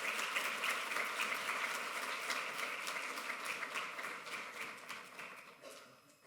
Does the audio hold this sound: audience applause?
yes